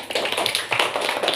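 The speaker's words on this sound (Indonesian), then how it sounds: "tepuk tangan untuk kelompok 4" Classroom applause for a student group, a dense patter of many hands clapping close by, steady and lively for a second or so with no talk.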